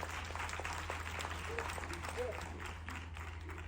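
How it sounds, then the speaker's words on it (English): Audience applause at a Black real estate summit address, a steady wash of clapping from a crowd with some voices underneath, moderately loud and continuous throughout. "And that is worth an applause."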